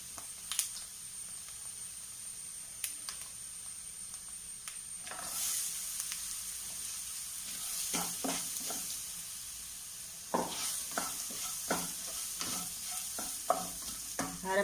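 Rice and ground coconut paste fry in a pan under a soft, constant sizzle, while a spoon scrapes and stirs in short clusters of strokes, close and moderately quiet, with no voices.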